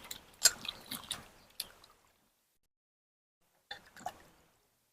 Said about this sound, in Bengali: এই ঠান্ডা নর্মাল ঠান্ডা জলে ভালো করে ধুয়ে নেবো আমগুলো